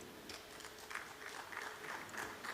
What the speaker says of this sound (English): May we now have a big round of applause for the participants of Class 9th